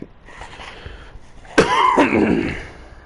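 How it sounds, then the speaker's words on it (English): A single harsh, loud cough bursts out partway through, preceded by faint background murmur and trailing off into a rough exhale. "So, that was a wild cough."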